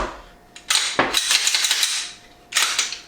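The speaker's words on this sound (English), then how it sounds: "I'm going to go ahead and unload my weapon" A handgun is unloaded at close range, the slide racked with sharp metallic clacks and rattling, a burst of mechanical noise followed by a second brief clack.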